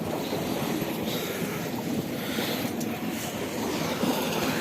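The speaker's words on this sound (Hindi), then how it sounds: "हमारी मोटर भी चल गई है ट्यूबवेल की।" A tubewell water pump motor on an orchard farm runs steadily, giving a continuous broadband rush and rumble of machinery and flowing water with no pauses.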